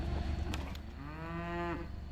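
A single cow moos out in a farm pasture, a drawn-out, rising-then-falling bellow over a slightly noisy outdoor background, moderately close and clear.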